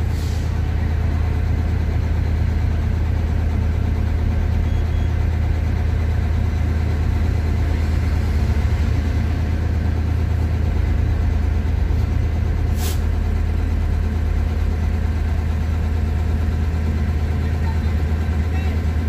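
Vehicles idling at a Brazilian highway toll plaza: a steady low engine rumble from close by throughout, with faint traffic and a brief sharp click midway.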